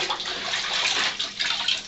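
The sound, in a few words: leather hide being rinsed and squeezed in water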